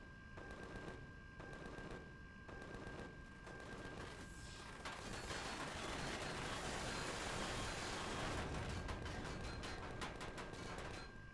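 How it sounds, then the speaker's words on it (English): Sustained video game gunfire in rapid, overlapping bursts of shots, loud and dense throughout, with brief gaps early on before a heavier continuous volley. "Stop shooting."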